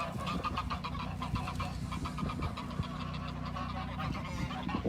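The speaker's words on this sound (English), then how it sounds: "But the geese are very loud." A flock of farm geese honks loudly and continuously, overlapping calls forming a dense, raucous chorus close by with no talking.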